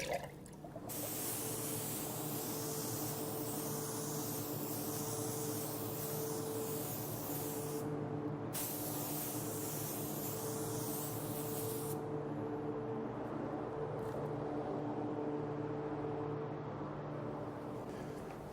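A spray gun applies an apple red candy base coat to a car panel in a long, steady hiss, broken by one brief pause and then a second shorter pass, with no talk.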